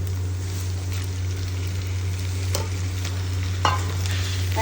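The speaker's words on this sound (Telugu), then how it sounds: "అల్లం వెల్లుల్లి పేస్ట్ వేసుకుని వేగనివ్వాలి" Ginger garlic paste fries in a pan for a tamarind leaf and prawn curry, giving a steady close sizzle with a couple of sharp stirring clicks over a constant low hum.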